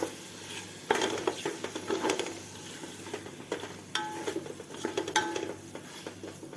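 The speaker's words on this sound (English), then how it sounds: "Mixing it well." Mutton pulao being stirred in a pot, with a spoon scraping and clinking against the metal over a steady sizzle of frying; the stirring comes close and loud in irregular bursts.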